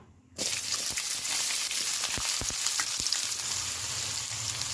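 Two onions cut into long thin slices hit hot oil with a sudden loud sizzle that holds steady and close, a continuous frying hiss with a few soft stirring knocks, no voices.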